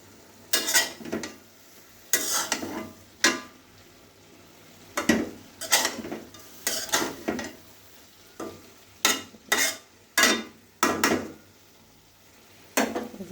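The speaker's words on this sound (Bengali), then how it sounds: "এবার ভালো করে নেড়ে চেড়ে ঢেকে দেব।" Cabbage being stirred in a pan, with repeated scraping, sizzling strokes in irregular bursts, loud and close, and no talking.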